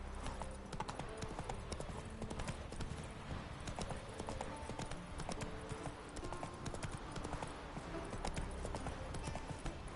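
Horse hooves clip-clopping at a steady galloping rhythm in The Witcher 3, close and continuous throughout, with a brief whinny and a rider's voice faintly mixed in.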